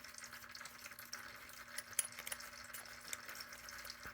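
Radiator coolant draining from a Honda Shadow VLX600 motorcycle, a faint steady trickle and splash of liquid running continuously, with occasional small drips and clicks standing out.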